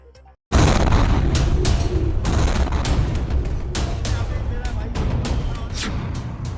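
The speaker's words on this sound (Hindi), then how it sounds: "आइए दिखाते हैं आपको दिल दहला देने वाले धमाके का वीडियो।" A car bomb explosion near Delhi's Red Fort: a sudden loud blast after a brief quiet moment, followed by sustained roaring, crackling rumble with repeated sharp bangs.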